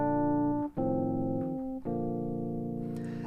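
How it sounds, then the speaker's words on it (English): A flute plays the simple tune Hot Cross Buns in a major key: three clear, sustained notes stepping downward, each separated by a short breath, played close and alone. "So Hot Cross Buns, which you might have already played, sounds like this."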